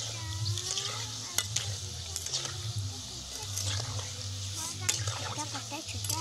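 Gulab jamun made from wheat flour sizzle while frying in a pan and are stirred frequently, the bubbling steady and close with occasional clinks and scrapes, while a voice speaks over it.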